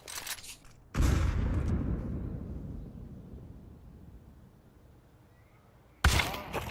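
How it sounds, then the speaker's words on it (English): In a Counter-Strike match, a grenade goes off with a loud, sudden blast that rolls away over several seconds. A second sharp burst follows near the end. "Grenade."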